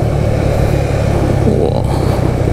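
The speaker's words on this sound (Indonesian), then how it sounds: "Sebelah kanan kita masih padat merayap." Dense, slow-crawling road traffic on Jalan Raya Bogor heard from a motorcycle, a loud steady roar of car and motorbike engines with no breaks.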